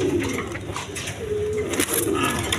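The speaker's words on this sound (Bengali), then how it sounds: "এইখানে এক পেয়ার আপনার গোল্লা কবুতর আছে, আবার রাজগোল্লা বলে" A pair of Golla (Rajgolla) pigeons coo close by in repeated, throaty rolling calls, one after another, over a light background hum.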